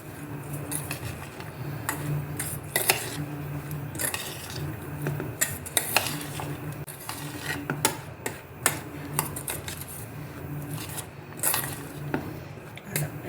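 Onion is mixed by hand with flour and salt in a bowl, producing soft continuous rustling with frequent light ticks and clinks against the container, close and quiet, with no speech.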